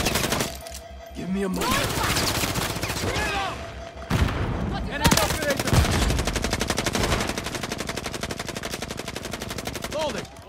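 Rapid automatic gunfire from an ACR rifle in a tactical shooter video game, loud bursts and sustained fusillades with sharp transient shots, under a man's calm spoken callouts.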